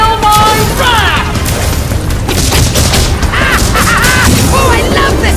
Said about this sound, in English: Oh, I love the sound of cannon fire!